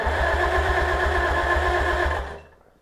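A Farmall Cub tractor engine cranks over during a compression test, with steady rhythmic low thumps from the turning engine that stop abruptly near the end and leave near silence.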